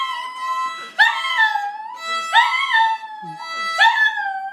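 A shih tzu yips and whimpers at a violin, its high, sliding cries rising and falling in three or four close, loud bursts over a thin sustained violin tone.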